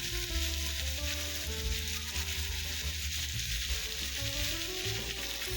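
Bitter gourd fries in a little oil in an iron kadai, a loud, continuous close-up sizzle with a bright crackling hiss throughout and no one speaking.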